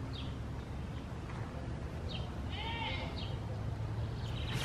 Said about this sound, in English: Oh, there's goats back there behind me.